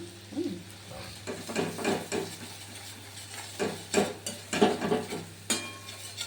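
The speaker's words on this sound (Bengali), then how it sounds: "এবার আদা বাটাটা একটু কষে নিয়ে" Ginger paste being sautéed in a pan, a soft background sizzle broken by repeated rhythmic spatula scrapes and stirring clatters, close and moderately loud.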